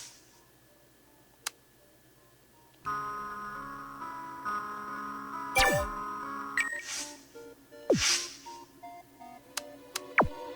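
A phone ringtone chimes in the video game Buried Stars: a tonal electronic melody with several bright bell-like notes and ticks over a steady background of music, fairly loud and close.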